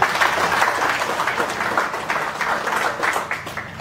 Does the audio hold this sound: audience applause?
yes